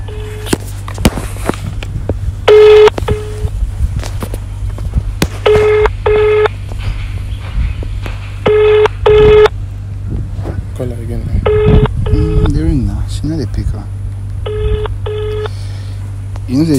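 A telephone dials out during a prank call, with short bursts of keypad tones and ringing spread across the clip under a steady low hum and scattered voices.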